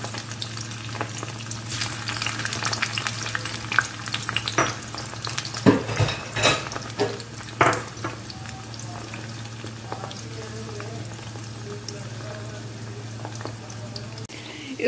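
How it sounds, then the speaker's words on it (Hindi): Potatoes fry in hot oil in a pan for an achari aloo dish, giving a steady close sizzle and crackle with occasional stirring clatter, alone with no talk. "इसको अच्छा पिंक कलर आ जाए उतना फ्राई करना है आलू को, तो अच्छे से फ्राई होने दीजिएगा इसको"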